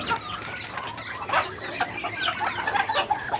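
Backyard chickens clucking in short, uneven bursts, with a few close calls over a busy flock chatter and no talk.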